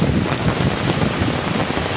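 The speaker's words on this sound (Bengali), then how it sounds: "প্রচণ্ড বৃষ্টি নেমেছে দেখতে পাচ্ছেন" Heavy rain pours down in a park in Mumbai, a loud, dense, continuous hiss of drops hitting the ground and surfaces nearby, with no voices.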